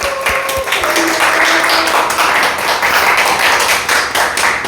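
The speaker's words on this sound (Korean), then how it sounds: "사랑합니다 하고 박수를 보내주십시오" Church congregation applauding mothers at a Mother's Day service, a dense, steady wash of many hands clapping together, loud and sustained from start to finish.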